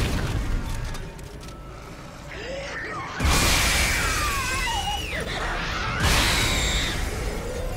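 Glass window shattering in the Dead Space 2 video game: a sudden loud crash at about three seconds that spills into a sustained rushing roar, with a second surge of breakage and whooshing later, all over low mechanical rumble.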